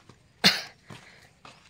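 A single sharp cough close by during bathroom construction work, followed by two fainter, softer breathy coughs.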